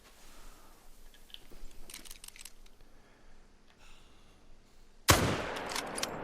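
A rifle shot is fired at a whitetail buck in a hunting video game, one sudden loud crack near the end followed by a ringing decay, after quieter outdoor ambience and faint rustling.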